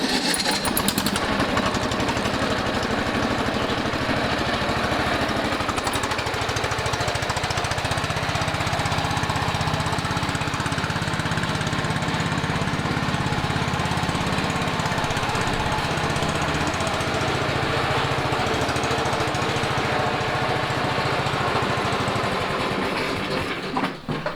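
A small petrol engine on a walk-behind tractor (Kentavr 390 motor) runs steadily and loudly throughout, a rough rattling drone with a slight change in pitch midway.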